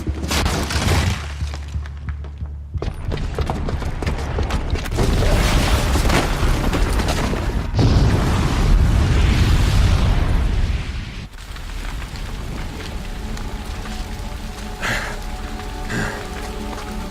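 A bomb booby trap explodes in Horizon Zero Dawn: loud, broadband blasts with a crashing, debris-like rumble. It is followed by a heavy rolling roar and then a lower, settling tail of crackling noise.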